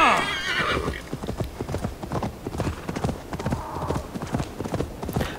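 Horse hooves clip-clop at a steady gallop in the video game Assassin's Creed Valhalla, with a whinny at the start and someone briefly talking over the rhythmic thudding.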